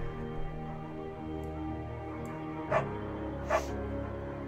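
A beagle in the video game Firewatch gives a couple of short barks and yips over a low ambient game hum, with no talking.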